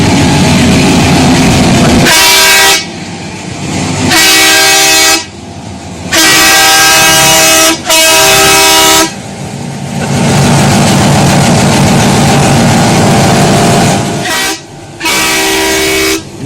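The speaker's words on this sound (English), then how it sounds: "this is the horn from that train" A train horn blows in several loud, close blasts of varying length separated by short gaps, rich and harmonic, dominating over a rumbling background with no talking.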